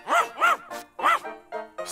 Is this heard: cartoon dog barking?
yes